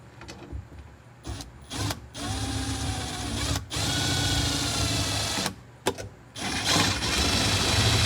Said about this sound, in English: I don't like the way those screws go in at all.